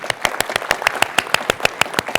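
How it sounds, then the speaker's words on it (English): A small audience at a physics talk on phase transitions claps in a sparse, steady rhythm of about a dozen distinct, fairly close hand claps, with no one speaking over it. "Let's clap again"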